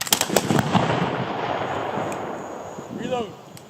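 A ceremonial rifle volley fired at an outdoor grave marking ceremony, with several sharp overlapping cracks at the start that echo and fade, a spoken command heard later.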